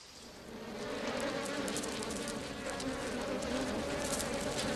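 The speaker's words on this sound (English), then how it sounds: "These two are honeybees." Honeybees from a hive in a hollow tree buzz in a steady, dense drone that holds at a moderate level throughout.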